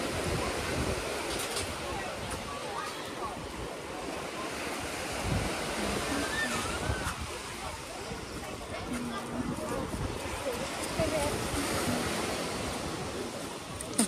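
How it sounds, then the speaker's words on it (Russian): Sea waves wash steadily onto a Sochi beach, a continuous broadband surf rush with gusts of wind noise on the microphone and faint voices in the background. "Смотрю, волновка стоит."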